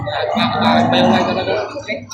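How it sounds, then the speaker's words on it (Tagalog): Cattle at a busy livestock auction market in Padre Garcia, with a drawn-out low moo rising through crowd noise and nearby talk across the whole stretch. "Ayan, ito yung baka."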